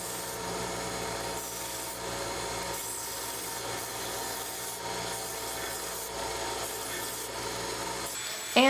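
A Dremel-type sanding tool works the edges of a wooden heart-shaped sign held in a small clamp, giving a continuous, even rasping rub for several seconds with no voices.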